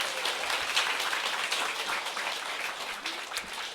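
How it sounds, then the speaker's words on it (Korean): An audience at a Korean Atomy business presentation claps in a sustained round of applause, a dense, even patter of many hands heard from a moderate distance without speech. "박수 한번 치셔야 돼요."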